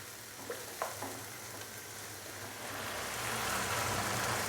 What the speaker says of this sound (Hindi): यहाँ पे हम मसाले को भून लेंगे 5 से 7 मिनट के लिए